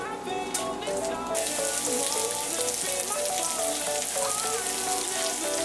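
Potato pancake batter frying in oil in a pan, a steady dense sizzle and crackle running continuously throughout, with faint clinks and music-like tones underneath.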